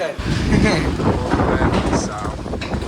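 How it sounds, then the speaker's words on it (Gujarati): Strong wind gusting outdoors on a dusty, cloudy day before rain, a heavy rumbling buffet across the microphone that roars continuously, with a voice talking beneath it. "શું પવન ચાલુ છે."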